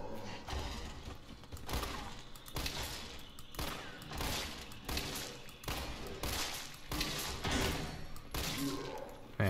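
Gunfire in the video game Resident Evil 3 Remake, rapid repeated shots in bursts throughout, fairly faint with little talk.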